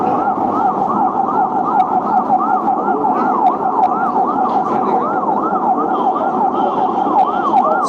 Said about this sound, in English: Just the sirens keep going in Beirut.